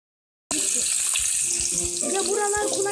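A steady sizzling hiss of frying food in a Roblox game starts abruptly and continues evenly, with faint tonal effects underneath.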